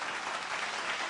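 A quick flurry of hand claps in praise of a DJ, dense and continuous like a small burst of applause, close and fairly loud for about a second.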